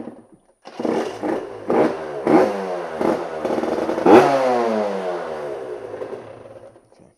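Aprilia RS125 two-stroke motorcycle fitted with a Lectron 38mm carburettor, cranked in several short bursts before the engine catches and revs up, then settles into a steady idle, close and loud with no talking.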